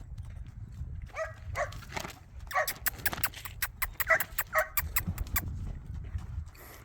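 Hooves clop on hard ground in an uneven walking rhythm, moderately close, with a low rumble of outdoor background beneath.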